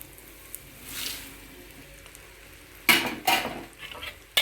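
Flattened rice (poha) tips into a hot tempering in a pan with the stove switched off, giving a couple of sudden rustling, sizzling bursts over a quiet background, then scraping stirring.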